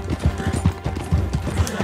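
Horse hooves clip-clop in a steady walking rhythm in the video game Red Dead Redemption 2. The close, repeated thuds are heard alone.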